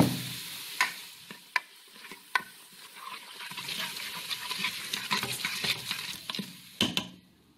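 Tomato, ginger-garlic paste and salt fry in a pan for a brinjal and radish masala, with a steady sizzle and scattered clicks of a spoon stirring against the pan, close and fairly quiet, no talking.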